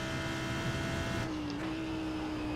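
Race car engine at Silverstone in a racing video game, a steady tonal drone whose pitch drops and then holds lower, heard continuously and fairly loud.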